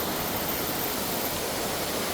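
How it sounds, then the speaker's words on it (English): Steady, close rush of water pouring down a man-made waterfall, a dense broadband roar that holds evenly from start to end with no voices over it. "Wanted to give you guys a shot of this waterfall here. It's a man-made waterfall, obviously."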